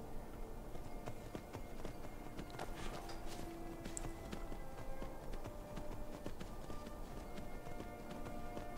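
Horse hooves in Skyrim clip-clop steadily and rapidly as a rider gallops along, a continuous rhythmic patter of hoofbeats at moderate volume with faint background ambience and no speech.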